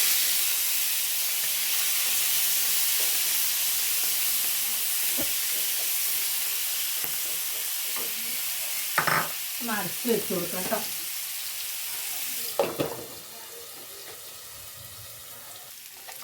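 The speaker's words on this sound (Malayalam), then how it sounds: "ഇതാ ഇനി ഞാൻ ചെമ്മീനാണ് വറുക്കാൻ പോകുന്നത്" Prawns frying in hot oil in a home kitchen, right after mackerel, give a steady, close hiss and sizzle, broken by a few short clattering bursts and a brief spoken word.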